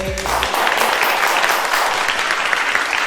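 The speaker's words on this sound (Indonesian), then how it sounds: "Boleh kita tepuk tangannya sekali lagi" An audience at an iPhone 13 launch event applauds steadily after a dance performance, a dense wash of clapping that starts right after a brief voice.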